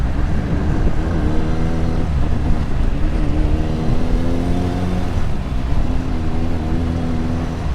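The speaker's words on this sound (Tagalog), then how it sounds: "Pero ngayon medyo okay yung traffic, hindi masyadong mabigat. Light traffic lang dito." Light road traffic passes on a city street, car and vehicle engines humming and rising steadily and continuously throughout, fairly loud and close with no talking.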